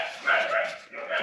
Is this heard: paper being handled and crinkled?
no